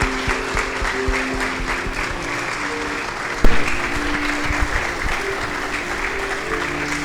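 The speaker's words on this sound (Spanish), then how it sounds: "le damos un fuerte aplauso al Señor y un fuerte aplauso a nuestros hermanos que son nuevos miembros de la iglesia" A church congregation applauds new members at a baptism and membership service, steady sustained clapping from many hands filling the room at moderate loudness, one sharper knock partway through.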